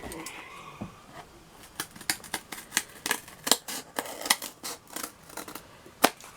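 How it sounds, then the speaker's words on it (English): Scissors snipping through chipboard cardboard in a run of sharp, crisp cuts, about a dozen distinct snips at an uneven rhythm, close and alone without talk. "And then take my scissors."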